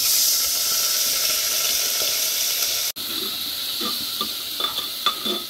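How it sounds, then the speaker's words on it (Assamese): Soaked moong dal dropped into hot mustard oil in a pressure cooker, a loud steady sizzle that cuts briefly and resumes, followed by scraping stirs and light clinks of a utensil against the pot. "এতিয়া মই এই তিয়াই থোৱা মগু দাইলখিনি কুকাৰটোত তেলখিনিত দি ল'ম।"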